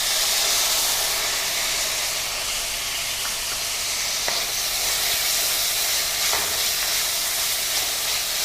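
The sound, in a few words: tomatoes added to a frying pan, sizzling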